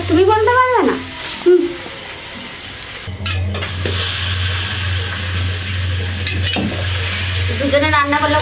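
Potatoes and chicken frying in a pan for chicken kosha cooked on a rooftop, a continuous sizzle with stirring scrapes, a steady low hum underneath and brief voices at the start and end.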